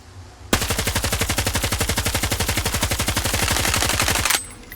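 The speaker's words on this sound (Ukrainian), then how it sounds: "Ну і для контрасту знову з Хароду постріляємо" A long, rapid burst of Kharod automatic rifle fire in the video game S.T.A.L.K.E.R. 2, evenly spaced shots rattling continuously for about four seconds before stopping abruptly.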